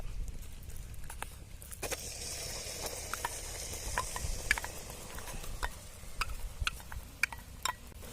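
Jelly candy syrup with dissolved gelatin being stirred in a pot, soft bubbling under repeated light clicks and scrapes of a spoon.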